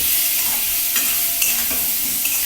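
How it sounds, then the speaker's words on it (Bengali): Tomato and potato sauté in a pan, with close, loud stirring scrapes and clatter over a continuous sizzle, and no talking during the short burst. "এবার টমেটো আলুটাকে এর মধ্যে কষিয়ে নিতে হবে"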